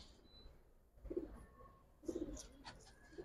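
Two pigeons, a male and a female, give quiet cooing bursts, a couple of low throaty phrases close by but faint against a hushed background, with no speech.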